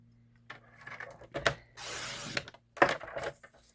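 Paper strips for scrapbooking being cut in half, with a brief rustle and snip, then a sustained broadband swishing cut or rub, and another sharp crisp burst; close and fairly quiet, with no talk.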